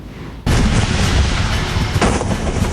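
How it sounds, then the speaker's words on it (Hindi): Heavy firing at the Line of Control border between India and Pakistan roars as a loud, continuous rumble of booming artillery and gunfire, with a fresh blast surging in partway through. "43 साल बाद सबसे भारी फायरिंग।"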